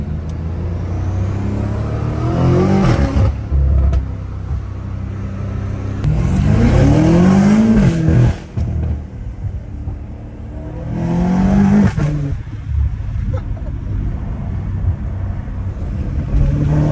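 A debadged catless BMW M5 Competition rips through its gears on the street, engine and exhaust roaring loud and close in repeated rising pulls with brief shift breaks, crackling between bursts.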